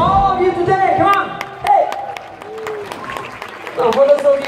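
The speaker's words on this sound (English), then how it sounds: "Give a big round of applause to all of you today." A concert crowd at an outdoor jazz festival show applauds and cheers, with clapping beneath loud whoops and shouting voices that rise and fall throughout.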